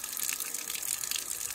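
Water gushes steadily from an outdoor tap beside a small chapel on a mountain hike in Italy. The hissing, splashing flow is continuous and close.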